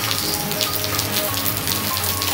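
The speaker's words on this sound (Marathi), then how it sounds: "विजांच्या कडकडाटासह रिमझिम पाऊस झालाय." Light unseasonal drizzle falls in Guhagar, Ratnagiri, a steady close hiss of raindrops on surfaces with a low constant hum beneath and no voices.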